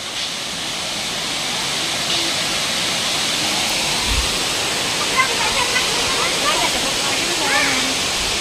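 Kanthilangso waterfall in Hojai, Assam pours in a constant, dense rushing roar, close and loud throughout, with faint voices of people talking partly under the water noise.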